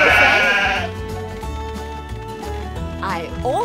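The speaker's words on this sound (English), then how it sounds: "I only need the gray sheep with red sweaters on this part." Cartoon sheep in the Paw Patrol Academy video game let out a loud, bright bleat over bouncy game music, followed by more short bleats near the end.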